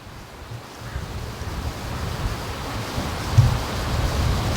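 Wind blowing hard around a tree beside a lake near a creek mouth, a steady broad roar with gusty swells and a buffeting thump, no talking.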